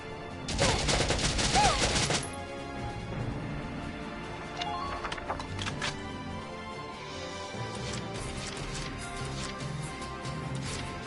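Rapid gunfire in the Valkyria Chronicles video game, with a dense burst of shots near the start, then scattered shots and rumbling battle noise continuing underneath.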